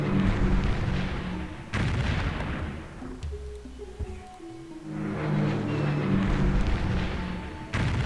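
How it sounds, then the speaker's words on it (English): Bombing of tanks in the strategy game Civilization III during a World War II scenario, two heavy booming blasts with rumbling decay, separated by a quieter stretch, loud and close with no talk. "Let's make sure these tanks never see the light of day again. Hopefully successfully this time, unlike everywhere else we've tried to bomb them."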